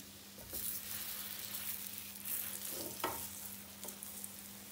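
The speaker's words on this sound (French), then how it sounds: "Donc là, je vais mettre les champignons." Portobello mushroom caps, stems removed, laid into a hot pan and frying with a steady sizzle, with a few soft clicks and scrapes as they settle, and no talking.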